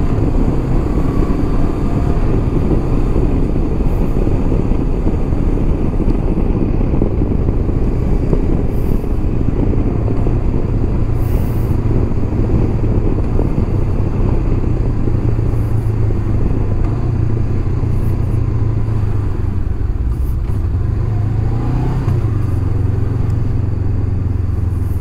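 Traffic rolls continuously across a busy bridge, a loud unbroken roar of engines and tyres with a vehicle drone swelling and fading toward the end.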